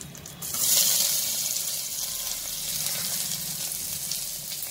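Onions sautéing in a pan with fenugreek and chillies for millet sambar, a steady soft sizzle that swells after a brief moment and holds at a constant hiss.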